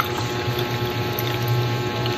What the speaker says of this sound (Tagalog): Lagyan ko lang siya ng tubig without sugar